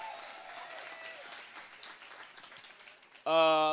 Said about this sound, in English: Y'all put your hands together right now.